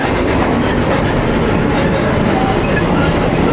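Railway wagons rolling on the Magnezit plant railway in Satka, a close, loud, continuous rumble of wheels on track with faint metallic squeals over it.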